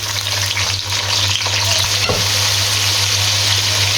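Finely chopped onions fry steadily in hot oil in a kadai, a loud continuous sizzle with a faint scrape of stirring midway, no voices.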